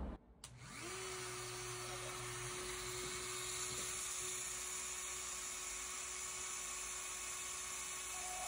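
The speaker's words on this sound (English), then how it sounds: "I'm gonna go in now with this tile cutting bit. Plunge straight down, not very deep," A Dremel rotary tool fitted with a tile cutting bit whines at a steady high pitch as it plunges shallow holes into an oyster fossil, starting with a short spin-up and running continuously without talk.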